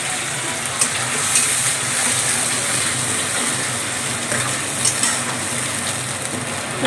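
Pureed onion sizzles and fries in a pan, a steady loud crackling hiss with occasional scraping stirs rising briefly above it, no voices.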